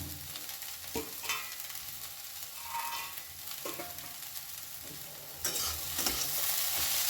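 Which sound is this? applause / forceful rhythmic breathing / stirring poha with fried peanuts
stirring poha with fried peanuts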